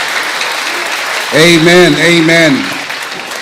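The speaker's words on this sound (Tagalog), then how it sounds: "Malakas na palakpak para sa Panginoon." At a church anniversary service the congregation breaks into applause, a steady wash of clapping rising as voices call out over it, then fading slightly.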